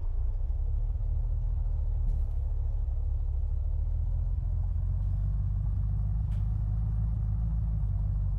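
Steady low engine rumble of a car driving in the video game Unturned, a continuous drone held at an even level throughout, with no talk.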